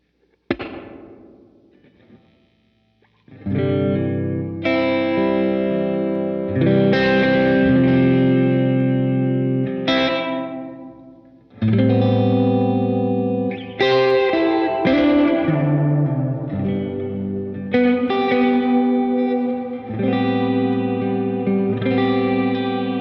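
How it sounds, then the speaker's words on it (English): Electric guitar chords and single notes ring out through a UAFX Golden Reverberator pedal on hall setting without modulation, a big, spacious reverb, each phrase leaving a long wash trailing behind it. "this is what hall sounds like with no modulation in the A position"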